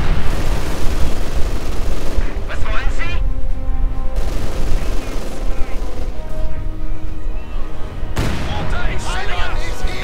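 Battle sounds from a strategy video game fill the scene as German and Soviet forces clash: rapid rifle and machine-gun fire crackle almost without pause, mixed with booms, while a commentator talks over most of it.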